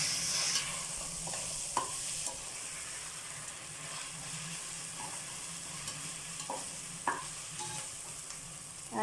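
Cashews fry and sizzle steadily in oil in a pan for chicken biryani. A spoon stirs with occasional scrapes and clicks over a constant hiss, up close and alone.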